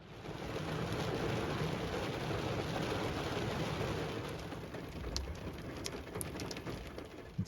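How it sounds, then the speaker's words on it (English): Steady rain falls outdoors at a wooded trail camera site, a dense, even hiss of drops that eases slightly toward the end, with a few sharper drips near the close. "the rain is getting a little lighter"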